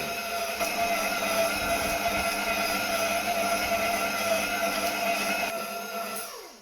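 An electric hand mixer kneads pizza dough with a steady, droning motor whine that holds level for several seconds, then winds down and fades near the end.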